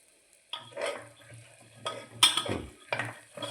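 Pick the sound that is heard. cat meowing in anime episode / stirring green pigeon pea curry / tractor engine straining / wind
stirring green pigeon pea curry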